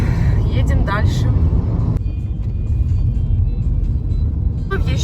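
Steady loud rumble of tyres and engine inside a car travelling along a road toward mountain passes, with a passenger talking briefly over the continuous drone.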